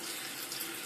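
Water running steadily from a tap as something is washed under it, a brief close, even hiss of flowing water with no voices.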